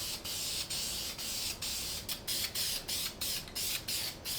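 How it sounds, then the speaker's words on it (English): White spray paint hissing from an aerosol can in a run of short bursts, each a second or less, with quick pauses between them and no talking, while a lowered 4x4 Sierra pickup bed is being patched. "a little white spray paint"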